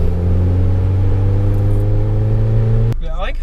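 A 2010 Volkswagen GTI pulls hard in third gear, its engine a steady, loud droning hum held evenly before cutting off abruptly near the end.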